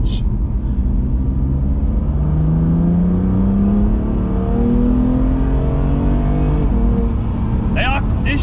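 A 720bhp 2020 Audi RS6 builds revs through a long, steady rising engine drone with exhaust note, recorded from inside the car with continuous low rumble and a brief rustle near the end.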